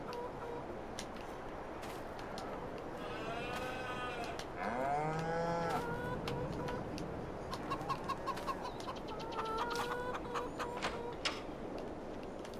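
Cattle on a farm in a console farming game low out with a few drawn-out moos near the middle, over a steady ambient bed with chirping birds and a clucking chicken around them.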